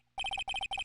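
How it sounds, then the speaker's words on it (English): A cell phone rings in the Phoenix Wright video game, sounding as three quick bursts of bright electronic trills with short gaps, loud and close, with no talking over it. "Hey, Nick, your cell phone's ringing."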